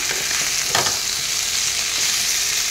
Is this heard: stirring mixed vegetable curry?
yes